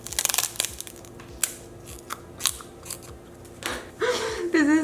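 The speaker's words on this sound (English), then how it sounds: "I'm just gonna like do a crunch and see how stale it is" Someone bites into stale rice cakes, giving a run of sharp, dry crunches and snaps spaced unevenly up close, with a brief vocal sound near the end.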